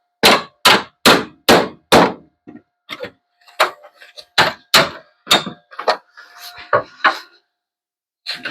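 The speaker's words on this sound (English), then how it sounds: "Hammer time, hammer time." Hammer blows ring out while working on a Triumph TR7: a fast run of about five sharp metallic strikes, then a looser, more irregular series of knocks and clangs, close and loud.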